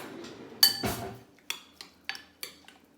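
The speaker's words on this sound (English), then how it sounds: "Let me stir this up." A spoon stirs homemade salsa in a jar, sending out several sharp clinks and scrapes against the glass that come in irregular bursts at close range.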